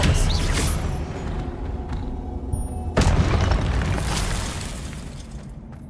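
Spell explosions and magic bursts in the video game Hogwarts Legacy, a dense rumbling booming texture with a sharp blast near the middle, loud and continuous without talk.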